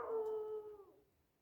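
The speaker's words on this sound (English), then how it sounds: "I didn't know there were any fucking people near that's close enough to where there'd be a dog barking at me." A dog howls at night near a winter campsite on the Kansas River, a single drawn-out falling howl at a distance, faint against the quiet.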